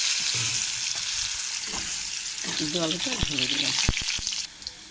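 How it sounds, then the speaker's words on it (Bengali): Boiled potatoes hitting hot oil with bay leaf and cumin in a pan, loud continuous frying sizzle with a few scraping stirs and clatters, a voice briefly talking over it before it quiets at the end. "আমি সিদ্ধ আলুটা ঢেলে দিলাম"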